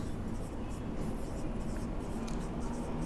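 Pen or marker writing on a board or paper during a Class 7 maths lesson, a steady scratchy stroking sound running throughout with low room hum underneath.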